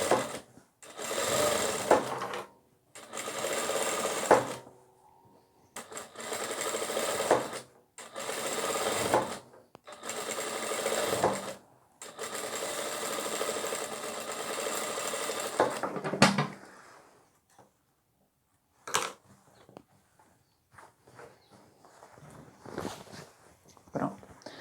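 A sewing machine stitches a seam on a nursing pillow cover in several loud, close bursts of rapid whirring with short pauses between runs, then it stops and quieter handling noises follow.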